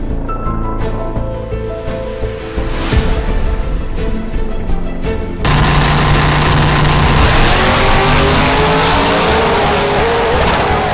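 Drag racing cars at Atmo Dragway during a small block nitrous versus turbo shootout, engines roaring loudly and a car launching hard with a sustained full-throttle blast and tire noise.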